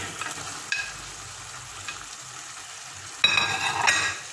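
Kefta meatballs are added to a pan of tomato and fry with a soft, steady sizzle, broken by light scraping and a louder burst of crackling near the end.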